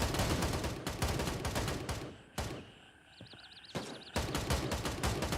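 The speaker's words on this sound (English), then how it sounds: "They're shooting at something." Gunfire in the military shooter Gray Zone Warfare: dense bursts of rapid rifle shots come in loud, sustained volleys that break off into a short lull with a faint whine, then resume at full intensity.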